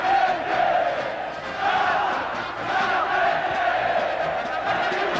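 Vasco da Gama supporters roar a battle cry and cheer at the Maracanã stadium, a huge massed crowd chanting in rolling waves that swell and dip steadily throughout.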